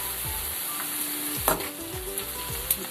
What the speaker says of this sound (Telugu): కరివేపాకు జీలకర్ర వేసుకున్నాను